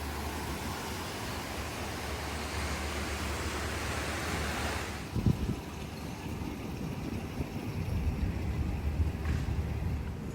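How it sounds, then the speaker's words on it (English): Ocean waves wash steadily onto a Barbados beach of blue water and soft powdery sand, a broad continuous surf hiss with a heavier thump of a breaking wave midway, heard alone with no voices. "just listening to the wave is such a therapeutic experience"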